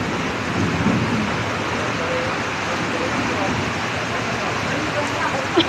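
Steady, dense hiss of heavy rain fills the scene, with a low rumble of thunder underneath and occasional faint voices nearby.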